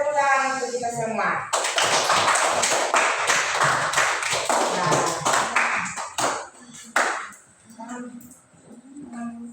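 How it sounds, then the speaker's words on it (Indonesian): Classroom of children clapping hands together in a sustained burst of applause led by a teacher, dense and close, fading into scattered claps with a voice speaking over the end. "Ya, tepuk tangan untuk kita semua."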